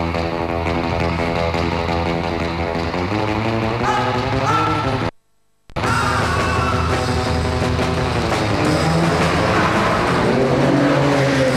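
A Vector supercar engine roars loudly at close range, revving up through the gears with a rising, strained pitch, then cuts to brief silence before the powerful engine noise resumes and continues.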